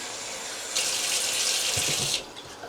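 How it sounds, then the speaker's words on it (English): Water poured from a faucet into a measuring cup or bowl for flour gravy, a short hissing splash of about one and a half seconds between quiet kitchen sounds, close and fairly loud. "I want to add a half a cup of water to it."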